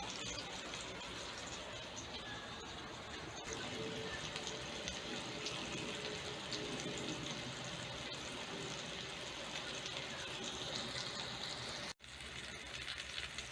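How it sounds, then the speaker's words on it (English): Pork chops sear in a hot pan over high heat, giving a constant loud sizzling hiss with occasional pops and crackles. The sound cuts out briefly near the end. "Here's the pork, searing."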